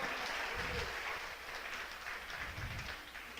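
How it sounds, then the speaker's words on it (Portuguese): A church congregation at a harvest festival service applauds, a broad, fairly distant clapping that blends into a steady roar with faint low rumble underneath. "Você pode aplaudir o Eterno."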